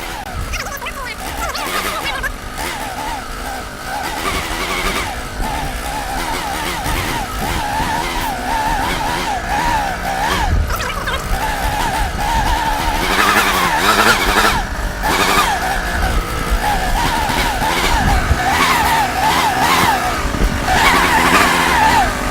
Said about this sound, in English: Almost idle on the blower.